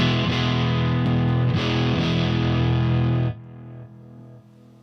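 Electric guitar runs through an Electro-Harmonix LPB-1 boost pedal, strumming loud, driven chords in quick rhythmic hits before cutting off into a decaying ring. No voices are heard.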